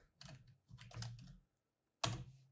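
Keys clatter on a computer keyboard in two quick bursts of typing, then a pause, then one firm final keystroke, close and clear with no talking.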